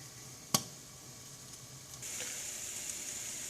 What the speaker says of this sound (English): the peppers have been roasting for approximately 7 minutes here, and you can really hear them sizzling